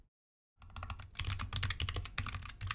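Code typed on a computer keyboard for a Python terminal game, quick close clacking keystrokes that start after a brief silence and continue in irregular bursts.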